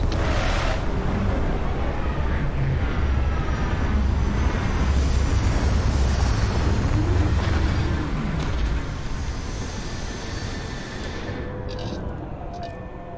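A spaceship sets down on a landing site in the video game Starfield: a loud, dense roaring rumble of thrusters holds steady for several seconds, then eases and thins out toward the end.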